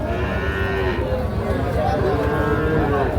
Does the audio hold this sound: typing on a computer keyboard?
no